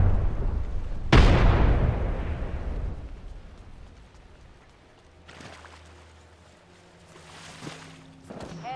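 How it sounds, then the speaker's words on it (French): A frag grenade detonates in a video game: one sudden, loud blast that decays into a long rumbling tail, followed by quieter scattered in-game sounds. "Grenade frag lancée."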